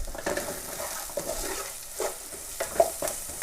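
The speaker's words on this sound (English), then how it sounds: "Give it a mix. You want to evenly coat your onions." Onions seasoned with salt and pepper being stirred in a pan, giving a soft, steady scraping and stirring sound with light sizzling and a few brief utensil knocks, close by and without talk.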